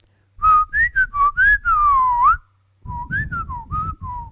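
A person whistles a quick melodic tune up close, a lively run of notes, a short pause, then a few more phrases.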